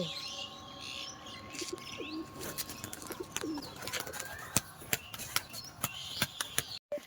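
Pigeons kept for sale coo and chirp nearby, with sharp clicks and brief wing flaps breaking through, growing busier toward the end.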